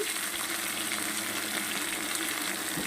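Drumstick vegetable pieces sauté with salt and turmeric in a pan, giving a steady, even sizzle and hiss that runs close and unbroken, with no voices.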